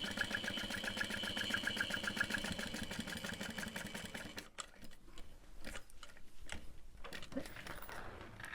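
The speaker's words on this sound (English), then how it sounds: "I'm going to top stitch on the bottom line, leaving long thread tails" A sewing machine top stitches along the bottom line of a backpack in a fast, even run of stitches for several seconds. It then stops, leaving quieter handling and shuffling sounds.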